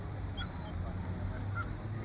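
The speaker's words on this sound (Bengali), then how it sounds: "পাখিগুলো চি চি করছে আবার মাঝে মাঝে।" Birds call along the Lake Michigan shore, with faint honking goose-like cries over a low, steady background rumble.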